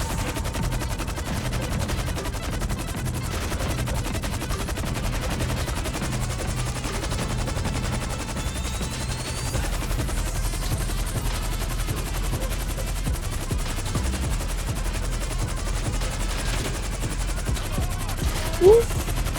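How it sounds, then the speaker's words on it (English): Rapid bursts of automatic gunfire from enemies in GTA V rattle almost continuously at loud, even level, dense and unbroken throughout. "You see, they've started to shoot us."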